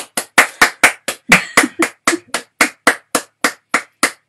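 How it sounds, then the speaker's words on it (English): A slow, even run of about sixteen single sharp hand claps, loud and close, evenly spaced with silence between each, and no voices. "give the artist who's made a presentation a big round of applause"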